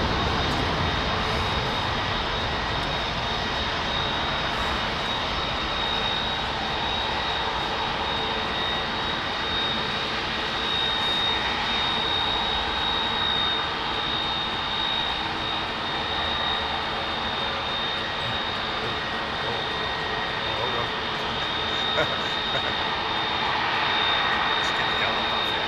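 A widebody airliner with GE CF6 jet engines thunders close by, a loud sustained roar with a thin high whine riding on top, steady for the whole stretch.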